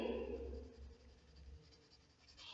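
Graphite pencil shaded hard across paper, a close, continuous scratchy rubbing that fades slightly toward the end.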